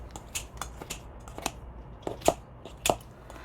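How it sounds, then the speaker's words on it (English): Scissors snipping through kimchi in a kitchen, a series of short crisp cuts at an uneven pace, close and clear. "Cut kimchi with scissors."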